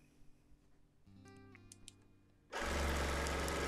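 A sewing machine stitches a quilt in free-motion quilting, a Quilt of Valor, starting quietly and then surging into a loud, steady, dense whirring hum that runs on without pause to the end.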